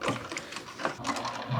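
Home sewing machine labouring to stitch through a thick crossbody bag strap, a steady mechanical whir with uneven strained pulses, close and alone.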